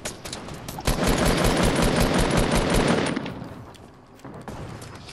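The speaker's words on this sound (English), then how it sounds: "Them guys shooting the J-Star from the back." Dense, rapid automatic gunfire rattles in the Fortnite Battle Royale video game, sustained for several seconds and then easing into more scattered shots.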